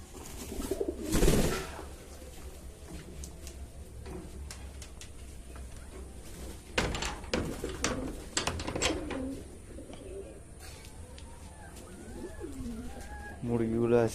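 Pigeons coo repeatedly at close range while bathing among a mixed collection of birds, soft throaty calls recurring through the stretch, with occasional clatter, flaps and a voice talking in between.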